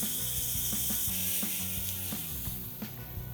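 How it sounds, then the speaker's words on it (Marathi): A hot tempering of oil, mustard seeds, dried red chillies and asafoetida is poured onto chutney, making a loud continuous crackling sizzle with a faint rhythmic ticking underneath. "ही जी चरचरीत फोडणी आपण केली ती आपण आता चटणीवरती"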